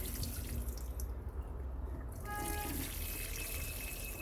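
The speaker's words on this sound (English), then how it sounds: "I literally have a watering can here full of water, and I'm just going to give these potatoes a good soaking" Water from a watering can pours steadily onto potatoes planted in a bucket, a continuous splashing trickle with a brief lull midway.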